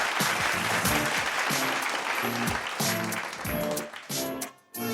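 A large audience at a fashion competition grand final applauds a contestant, dense steady clapping mixed with rhythmic music underneath, loud and sustained before briefly dipping near the end.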